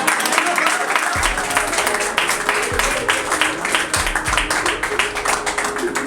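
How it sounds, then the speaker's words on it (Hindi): An audience at a Hindi poetry recital claps for a poet, a dense run of many hands with sharper individual claps, sustained and fairly close, while a voice keeps talking over the applause. "पहले इनके लिए तालियां बजा दो"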